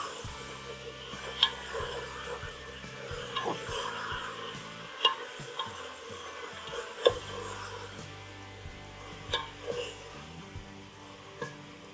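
Ridge gourd (tori) frying in a pan, a continuous sizzle broken by repeated scraping and clinking of a spatula against the pan at irregular intervals, close and moderately loud, with no talking.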